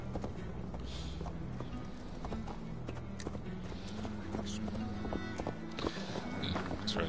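Horse hooves clip-clop at a steady gallop in Assassin's Creed Valhalla, a continuous rhythmic pounding under dense game ambience and music, with no voices.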